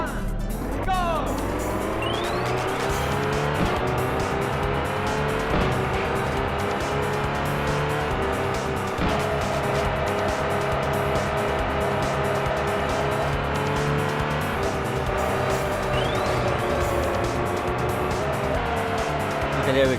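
Race car in the PlayStation game Touge Max 2 drifting, its engine howling with rising and falling pitch over sustained tire squeal, loud and continuous, with brief shifts in tone as the slide changes.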